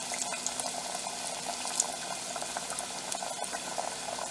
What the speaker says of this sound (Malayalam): ഇത് മീഡിയം ഫ്ലെയിമിൽ വേ ഫ്രൈ ചെയ്തെടുക്കാം